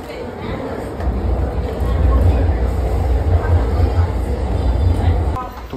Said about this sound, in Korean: 이제 지하철을 타고 시부야로 가보겠습니다.